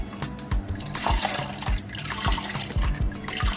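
Water pours and splashes into a pressure cooker holding hominy corn, with a continuous close liquid rush and a few knocks and clunks against the pot.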